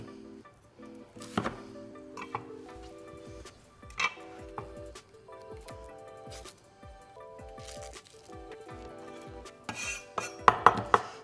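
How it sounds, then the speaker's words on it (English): Knife chopping red and green peppers into cubes on a board, a run of quick, close, crisp chops with pauses between bursts, over a soft backing tune. "Just got to chop these peppers into cubes, which we'll do just quickly."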